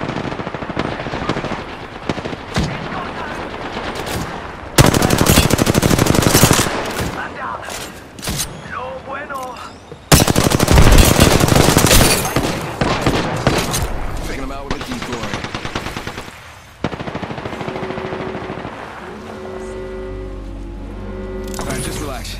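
Rapid automatic gunfire in the video game Apex Legends comes in loud, dense bursts with short gaps between volleys, and a voice talks over parts of it.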